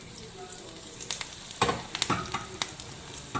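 A batch of onion pakoda drops into hot oil, a moderate sizzle with several sharp crackles and splashes as pieces go in one after another, close by.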